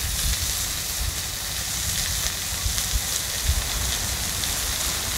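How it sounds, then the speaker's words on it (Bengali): An egg fries in a pan with turmeric and salt, giving a steady, dense sizzle that holds evenly throughout with small crackling pops and no talk. "সামান্য পরিমাণ হলুদ আর লবণ দিয়ে ভেজে নেব।"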